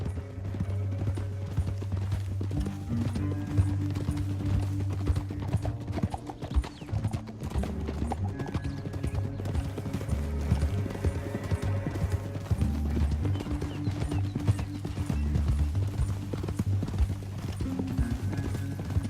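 Rhythmic clip-clop of horse hooves in the video game Red Dead Redemption 2, steady and continuous, with a brief whinny and a low musical drone underneath.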